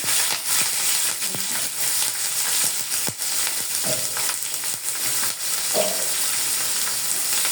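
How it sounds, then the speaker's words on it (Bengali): Continuous crackling sizzle of onions frying in a pan, broken by a few sharp utensil clicks and scrapes, close and fairly loud. "ভালো করে আমি ভেজে নিব এখানে পেঁয়াজটা"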